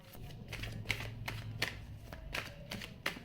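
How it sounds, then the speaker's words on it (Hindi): Tarot cards shuffled by hand: soft, continuous riffling and flapping with several sharper slaps, heard close but at low volume, with no one talking. "कब से शफल करे जा रही है"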